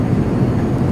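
A propeller airplane engine drones in a flight simulator game, a loud, steady low rumble with no talk.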